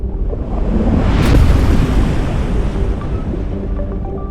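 A giant tsunami wave sweeps in from the sea, a loud roaring rush of crashing water and wind-like noise that surges to a peak then keeps churning, with no voices.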